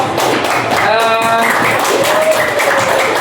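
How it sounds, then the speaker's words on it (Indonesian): Classroom applause from sixth-grade students for a student group, a steady stretch of clapping that fills the room, with a brief sung or called-out voice partway through. "Tepuk tangan dulu untuk kelompok"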